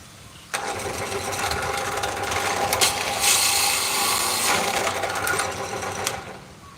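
A small motorized bead-drilling machine boring prayer beads whirs into life, running with a steady buzzing, rattling drone for several seconds before winding down near the end.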